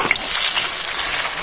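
Radish pakoras fry in hot oil, giving a steady, dense sizzle with bright bubbling crackle that holds evenly for a moment, close by and with no voices.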